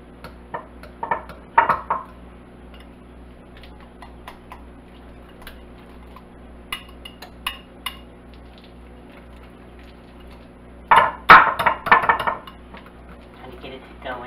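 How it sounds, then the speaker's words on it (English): Soft butter is worked by hand in a bowl for a peach cobbler pound cake, giving scattered soft taps, scrapes and clinks against the bowl with quiet gaps between them and a denser burst of handling near the end. "I'm just going to mix it by hand"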